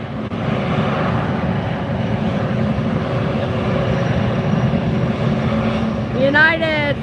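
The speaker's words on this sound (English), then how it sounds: "That is an A321neo flight" Airbus A321neo airliner, United flight 1755 bound for Chicago, taking off from Fort Lauderdale: a sustained broadband engine roar at moderate distance, steady throughout, with a short whining pitch sweep near the end and no voices.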